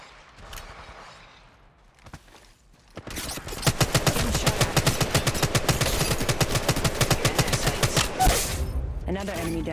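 Automatic gunfire in the mobile battle royale Apex Legends Mobile, a sustained rapid burst of loud shots after a quieter stretch, continuing for several seconds with a brief voice near the start.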